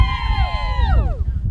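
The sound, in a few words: crowd cheering riders at end of charity ride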